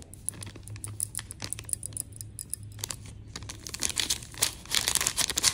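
A bag of baking powder crinkling in a home kitchen while kofta mix is prepared, with a series of close, sharp rustles and crackles that get louder and busier toward the end.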